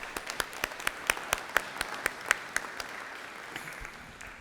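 An audience at a city beautification conference in Los Angeles applauds, a thin patter of steady, separate claps that fades toward the end, fairly quiet and somewhat distant.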